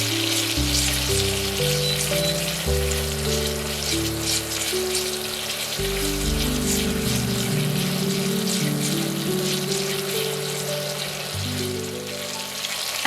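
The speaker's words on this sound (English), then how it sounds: "Stir in the tom yum paste and let it sizzle for a few seconds" Loud, dense sizzling of tom yum paste in a hot pan fills the whole stretch, continuous crackling with no voices, while low tones drift underneath.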